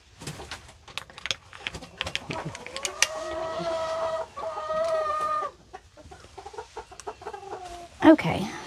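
Hens clucking with a rooster crowing among them in a backyard flock, several drawn-out calls and scattered clucks, fairly close, with a person talking briefly in between.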